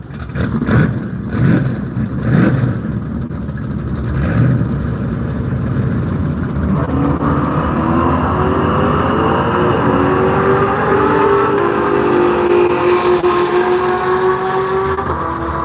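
Engines rumble and pop unevenly at a drag race launch, then cars accelerate hard with rising revving tones that hold loud and close. One of the vehicles is a Chevrolet pickup.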